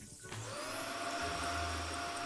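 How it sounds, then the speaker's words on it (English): Vacuum cleaner in the video game Kill It With Fire 2 sucking up spiders, a steady whirring drone that starts after a brief moment and holds loud and continuous to the end, with no talk over it. "Maybe I can vacuum them up."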